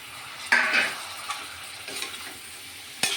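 Chicken pieces and potatoes frying in a pan for a home-cooked local chicken dish, stirred with a utensil: a steady sizzle with a few scraping clinks and a louder scrape near the end, no talking.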